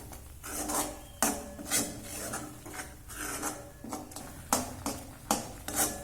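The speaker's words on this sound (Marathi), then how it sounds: "हा मसाला चांगला परतून घ्यायचा तेल सुटेपर्यंत याला परतून घ्यायचे" A spatula scrapes rhythmically through spice masala sautéing in a pan for Nagar-style shingori aamti, a series of close, rasping strokes about every half second with faint sizzling underneath.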